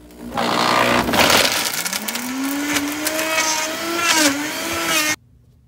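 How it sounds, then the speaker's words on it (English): A blender whirring through strawberries and other fruit, loud and close, its motor pitch climbing and wavering as the contents churn, then cutting off abruptly near the end. "I'm gonna show you how well this blender blends"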